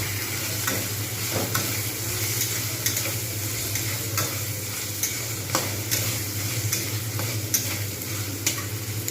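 Spice masala for prawn malai curry sautéed in a pan, with a steady close sizzle and a constant fry hiss broken by repeated scraping stirs of a utensil against the pan.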